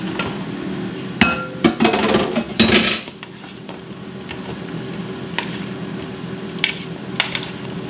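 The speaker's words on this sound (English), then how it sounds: "I'm going to spread them on the baking sheet and toss them some more" Food is tossed and spread on a metal baking sheet during Thanksgiving cooking, giving a cluster of clattering metallic knocks and scrapes early on, then quieter scattered taps and rattles against a low steady background.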